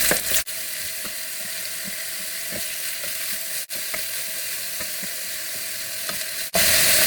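Shrimp and bitter gourd fry in a pan with a continuous close sizzle, broken by a few sharp scraping stirs.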